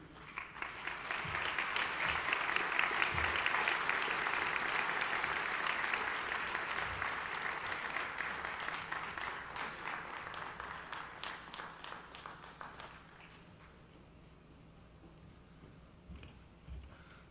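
A large audience applauds at a 2010 National High School Hall of Fame induction ceremony, a loud, dense ovation that swells early and then gradually tapers off, with the clapping thinning to scattered claps by the end.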